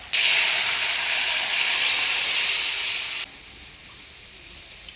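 Boiled kalai dal poured into a hot pan of ground coriander, cumin and ginger paste in a village kitchen, giving a loud, steady sizzling hiss that cuts off abruptly to a quieter simmer.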